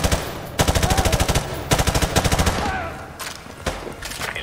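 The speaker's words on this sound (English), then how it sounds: "Roach, suppressing fire!" Suppressing machine gun fire in Call of Duty Modern Warfare 2 Remastered on PS4, Gulag prison mission: several loud rapid bursts of automatic fire with short pauses between, fading toward the end, with no voices.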